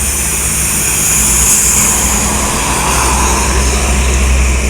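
Two intercity buses, a Sembodo followed closely by an ANS, pass on the road toward West Sumatra, giving a continuous loud roadside roar of engines and tyres that swells slightly as they go by.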